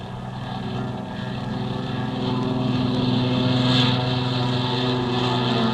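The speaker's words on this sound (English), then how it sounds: "The colonel's flight took off first." A military propeller airplane takes off in a radio drama sound effect, its engines droning loudly and steadily with a slowly building roar that peaks and holds.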